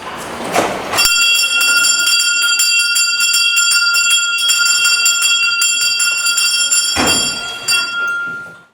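A school bell in a Białystok primary school, in use since 1915, rings loudly and continuously for about six seconds, a bright electric clang that stops abruptly.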